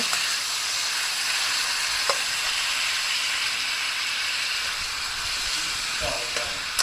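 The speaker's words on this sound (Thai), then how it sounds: "ทอดหมู" Pork frying in hot oil, a steady wash of close sizzling hiss that holds evenly throughout with a couple of faint knocks, no clear talk.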